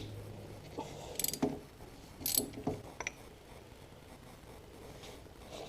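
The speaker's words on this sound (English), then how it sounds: "So just crack that with a 10mm socket" A ratchet with a 10mm socket works loose the oil filter cover nuts on a Hyosung GT250R EFI motorcycle, a few short clicking ratchet bursts, close and fairly quiet, then stillness.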